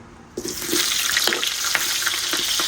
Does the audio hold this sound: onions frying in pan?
yes